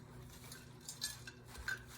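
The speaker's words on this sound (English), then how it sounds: "I'm mixing everything together." Kale salad being tossed with sunflower seeds and cranberries, about a third of a cup added: faint soft clinks and scrapes of utensils against a bowl, quiet and close, with no talk.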